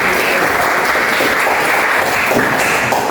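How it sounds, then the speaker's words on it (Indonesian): Classroom of students in an Islamic religious education lesson applauding, a loud continuous wash of many hands clapping at an even level throughout. "Luar biasa, kita kasih tepuk tangan."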